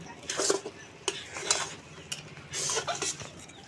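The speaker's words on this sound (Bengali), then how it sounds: "খুব ভালো করে নেড়ে চেড়ে আমি একটা শক্ত ডো বানিয়ে নেব।" A spoon stirs and scrapes palm-fruit dough with salt in a kadai over a low flame, producing irregular close scraping and clattering strokes with short pauses between them.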